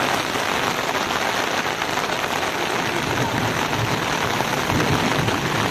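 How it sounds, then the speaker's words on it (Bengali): Steady, heavy downpour drumming on a surface near Mawlynnong, dense and constant throughout with no voices. "তো এখন মুষলধারে বৃষ্টিটা নেমেই গেল।"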